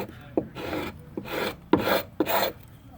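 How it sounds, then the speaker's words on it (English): A scraper rasps across heat-softened paint, loosened by a Speedheater infrared stripper, in four separate strokes, each opening with a sharp bite and then a gritty drag, with brief quiet gaps between them. "Keep a little heat on it while you're scraping."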